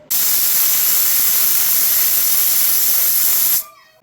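A loud, steady hiss of steam jets out of a Hawkins pressure cooker whistle for several seconds, then cuts off abruptly, leaving a faint lingering sound.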